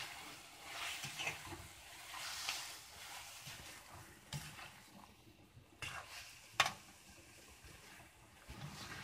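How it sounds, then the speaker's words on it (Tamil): Chicken sautés with onion and tomato in a pan for chicken gravy, a faint low sizzle with quiet intermittent scraping and a couple of sharper utensil knocks. "இப்போ சிக்கன் சேர்த்துட்டு கொஞ்சம் நல்லா வதக்கிடலாம்."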